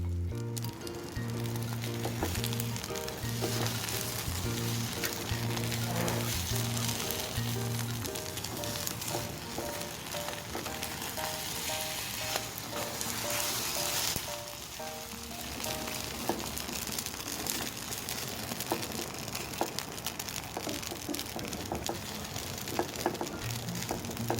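A Thai-style beaten egg omelette fries in a pan with a soft, continuous sizzle and light crackling that lasts the whole stretch, with quiet background tones underneath.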